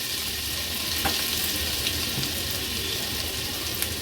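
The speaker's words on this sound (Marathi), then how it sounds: "1 टेबलस्पून आलं लसूण मिरचीचा क्रश घेतला आहे मी. थोडासा तेलावर परतून घ्यायचंय." A tablespoon of ginger, garlic and chili paste sautés in hot oil in a pan, a steady close sizzle with faint stirring scrapes and small pops, no talking.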